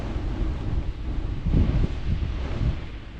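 Strong wind roars in gusts around a Jeep during freezing winter car camping, a constant loud low rumble buffeting the microphone that swells around the middle of the clip.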